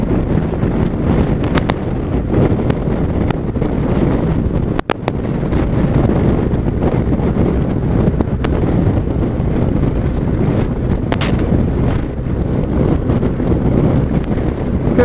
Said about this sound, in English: tired of the wind now, tired of it.